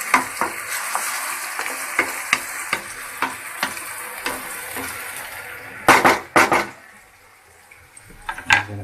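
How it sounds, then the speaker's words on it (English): A spoon scrapes and taps in a pan of tomatoes and onion frying over a soft, steady sizzle, with repeated clinks and a few louder scraping bursts near the end. "I'm going to pour in the tomatoes. Okay, I'm going to stir it a little."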